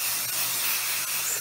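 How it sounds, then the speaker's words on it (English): A steady hiss of spray basting adhesive from an aerosol can, continuous and close, with no voices. "So I've been using the spray basting spray."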